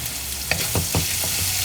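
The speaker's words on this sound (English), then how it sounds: "So after about 2 minutes, turns translucent, adding the curry leaves." Curry leaves hit a hot pan of translucent onions while making tiffin sambar, giving a steady close sizzle with a few stirring scrapes and clinks, no voices.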